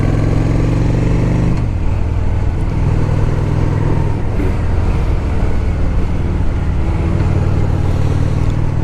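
A 2008 Honda Shadow 750 motorcycle engine runs steadily throughout a test ride, a loud, continuous low rumble with a brief dip in pitch partway through and wind noise over it, with no one talking.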